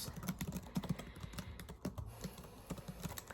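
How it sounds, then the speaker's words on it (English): Computer keyboard typing in a quiet room, a close, soft run of rapid keystrokes with short pauses between bursts, no talking. "I'm just gonna type down some of the notes."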